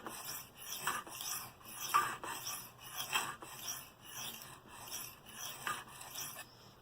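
A Bestech Scimitar knife is sharpened freehand on a stone, producing a steady series of raspy strokes about every half second that repeat evenly with no voices.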